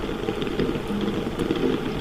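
Rain falls in a garden, a soft continuous wash of drops with a low rumble underneath, steady and fairly close with no talking.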